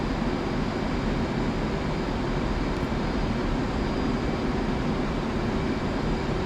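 Steady, loud broadband roar of an F/A-18C jet flying low at about 500 knots and 500 feet in the DCS combat flight simulator, an unbroken engine and wind rush with no variation across the span.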